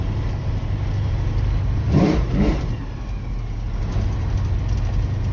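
A Chevrolet El Camino's engine drones steadily while driving, swelling briefly in a couple of revs midway before settling back into a constant running hum.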